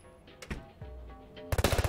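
Gunfire in the Door Kickers tactical shooter game: a couple of scattered shots and clatter, then a rapid automatic burst of about eight close, loud rounds at the end.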